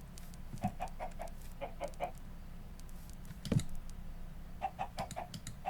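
Repeated soft clucks from a chicken in Animal Crossing: New Horizons, short bursts in small clusters with one louder squawk midway, over a steady quiet game ambience with no talk.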